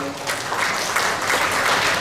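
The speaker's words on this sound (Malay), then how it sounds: "Tepukan gemuruh untuk beliau." An audience at a university leadership talk gives a short burst of applause for a vice-chancellor, a dense wash of many hands clapping at once, loud and sustained for about two seconds.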